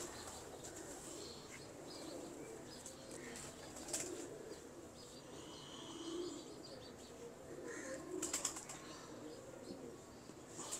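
Pigeons in a loft coo softly and faintly, with scattered chirps and a few brief rustles or wing flaps over a quiet, noisy background.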